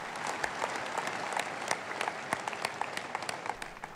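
A church congregation claps continuously in a dense, steady wave of applause, moderately distant and unaccompanied by talk.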